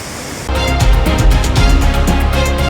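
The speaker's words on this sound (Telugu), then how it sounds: "దీంతో భైరవకోన జలపాతం ప్రమాద స్థాయిలో పారుతోంది" Bhairavakona waterfall, flooding at a dangerous level after Cyclone Montha, sends up a loud, continuous broadband roar of rushing water that begins abruptly and holds steady throughout.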